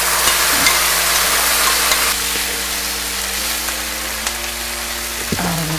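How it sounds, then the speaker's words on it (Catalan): Onion fries in very hot oil in a paella pan, a loud, dense, continuous crackling sizzle heard up close with a few faint clinks and scrapes, no voices. "I després ficaré l'oli aquí a la paellera. Després que estigui molt calent, hi ficaré la ceba."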